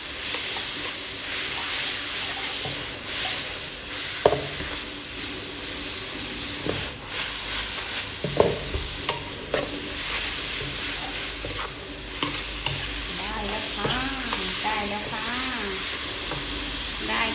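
Food is stir-fried in a pan with a steady, close sizzle throughout, broken by occasional clanks and scrapes of the utensil against the pan.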